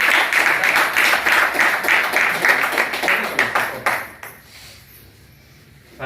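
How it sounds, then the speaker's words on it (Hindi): Audience at a motivational New Year talk breaking into loud, sustained clapping for about four seconds, then fading away to near quiet. "आपकी जोरदार तालियों में"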